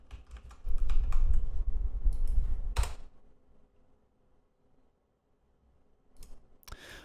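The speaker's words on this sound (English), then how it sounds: "I start to type some stuff here" Rapid clattering keystrokes on a computer keyboard for a few seconds, ending in a sharp key press, then near silence before a brief final burst of clicks.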